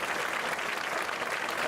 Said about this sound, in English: So let's, one more time, give Miss Jo a round of applause.